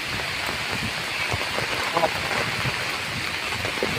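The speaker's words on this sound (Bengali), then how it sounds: "বৃষ্টির চাপটা যায় কত পরিমাণে বৃষ্টি হচ্ছে" Heavy rain pours down during Cyclone Remal flooding, a dense, steady hiss of drops hitting surfaces with faint splashes, continuous and loud with no speech.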